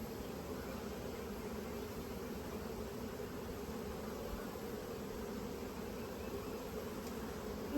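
Dense, steady buzzing of many bees at an open hive during a spring split, a continuous even drone filling the air at close range with no talking.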